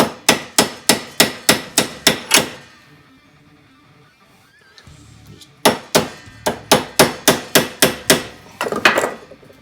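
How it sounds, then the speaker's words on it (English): Hammer repeatedly striking a drift against a rivet on a 1974 Dodge Dart, sharp rhythmic metallic blows in two rapid bursts separated by a quiet pause, close and loud. "and I take my hammer"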